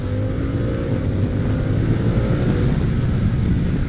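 A loud, close Harley-Davidson Pan America ST motorcycle engine drones and pulls hard under acceleration with its quick shifter, with a steady, throaty roar throughout.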